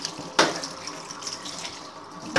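Tap water runs steadily into a sink while detachable vacuum cleaner parts are rinsed under it, a constant splashing hiss with a single sharper knock near the start and no talking.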